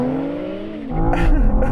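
A BMW M5 V10 Touring (E61) launches off a drag race start, its engine note climbing loud and close as it pulls away hard, with a rising rasp and a surge in low-end roar.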